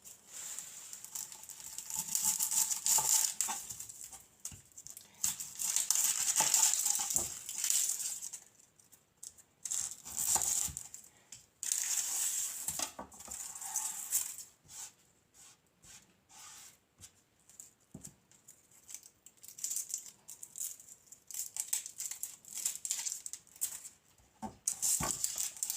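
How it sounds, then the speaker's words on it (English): A kitchen knife chops an onion on a board for a fiesta soup: rapid, close, uneven cutting taps in bursts with short pauses, no talking. "chop up an onion"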